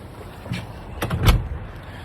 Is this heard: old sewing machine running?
no